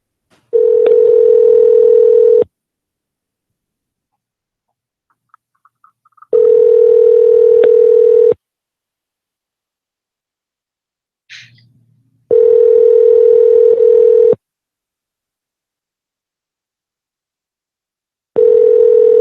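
A telephone rings out on a live call-in show: four evenly spaced, loud two-second ringback tones separated by silence, with a brief click and faint blips between them.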